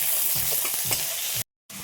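Chopped onion and tomato fry in a cumin tempering in a pan, giving a constant hissing sizzle with soft stirring scrapes, then a short silent gap before the sizzle returns.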